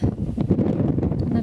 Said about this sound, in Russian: ветер такой сильный